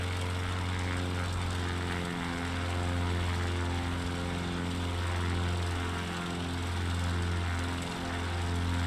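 Propeller aircraft in a video game climbing for altitude, a steady, loud droning engine hum with layered harmonic tones that rise and fall slightly, continuous throughout with no talking.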